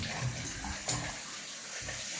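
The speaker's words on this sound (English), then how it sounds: "See, it's spraying all over." Hot water sprays steadily from a leaky shower valve, a continuous hissing splash that fills the space at close range, with no voices.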